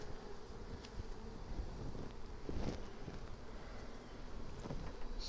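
Honey bees swarm around hive frames with a steady low buzz close by during a transfer from a nuc to a ten-frame box, faintly joined by wind and light handling clatter.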